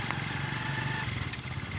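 A motorcycle engine runs steadily in a village setting, a continuous mid-pitched drone with a rough, buzzing texture and no pauses.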